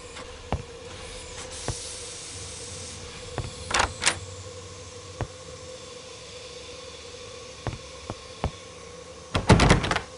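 A locked train-carriage door in an Agatha Christie Orient Express video game, heard as a few sharp clicks and rattles of the handle over a low, steady hum, ending in a brief cluster of louder clacks.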